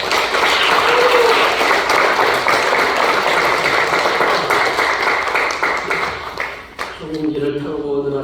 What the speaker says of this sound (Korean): 나오실 때에 환영하는 마음으로 박수로 환영하겠습니다.